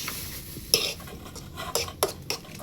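Spicy food is mixed in a pan with a metal utensil: several sharp scraping clinks of spoon against pan at irregular intervals over a soft background sizzle, close and fairly clear.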